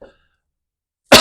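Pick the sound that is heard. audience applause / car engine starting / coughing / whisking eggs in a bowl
coughing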